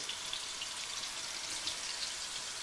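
Pieces of pork neck sizzle in hot fat in a pan, giving a faint, steady hiss with light crackling spits and no talk over it.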